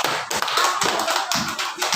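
A classroom audience claps for the third student presentation group, a dense, steady patter of many hands applauding together for about two seconds.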